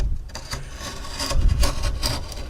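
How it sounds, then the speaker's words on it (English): Box knife trimming leftover wood flashing on a frame, several short scraping and cutting strokes close by, rough and uneven, with no talking. "Use a regular old box knife to trim the little wood flashing that remains in here."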